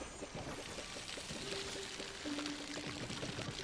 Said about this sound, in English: And then we're going to start watering.